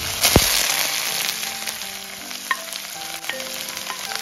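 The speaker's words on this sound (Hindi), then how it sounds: "अब मैं डालूंगी कटा हुआ प्याज जिसको हमें हल्का ब्राउन होने तक भूनना है" Chopped onions frying in a pan for a chicken gravy, a steady close sizzle with scattered pops and crackles and no talking.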